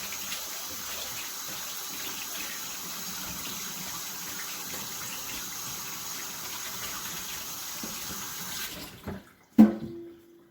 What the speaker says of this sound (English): let me wash my hands off